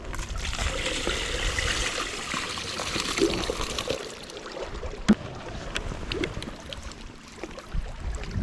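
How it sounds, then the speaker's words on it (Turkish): Fresh-caught fish rinsed by hand outdoors in Swedish nature, water poured and trickling steadily over it for several seconds, close and moderately loud, with a few small splashes and clatters. "Sonra biraz da yanımda getirdiğim suyla durulayacağım bunu."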